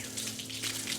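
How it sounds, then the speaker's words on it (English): Water is poured onto a floor to test the waterproofing, a brief close wash of splashing and gurgling that lasts about a second. "Put a bit of water there."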